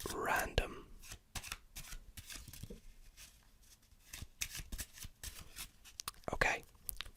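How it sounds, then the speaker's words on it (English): A deck of playing cards being shuffled and mixed at close range in a quiet room, giving soft, irregular riffling and rubbing bursts with some louder flurries near the start and end. "Shuffle that deck up, get it nice and random."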